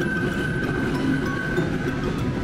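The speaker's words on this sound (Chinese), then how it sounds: "开往花莲的火车来了，我们坐的是自强号" Taiwan Tze-Chiang express train arriving at a station bound for Hualien, a steady rumble with a faint high whine and light rail clatter, heard alone without talk.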